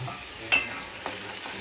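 A frying mixture stirred in a small pot, with oil seeping out as it thickens: soft scraping strokes over a low sizzle, with one sharper clink near the start and a few lighter stirs after, close and quiet, with no talking.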